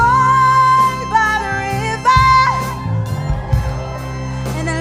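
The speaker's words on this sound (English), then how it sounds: "the crowd just went nuts" Crowd at a student singer's live song performance roaring and whooping over sustained music, loud and enthusiastic with shouts rising in bursts throughout.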